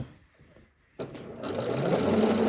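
A home sewing machine stitching along a shirt's outer yoke seam: after a quiet start with faint handling, the motor kicks in and runs as a steady, building whir close by.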